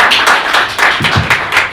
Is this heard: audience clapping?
yes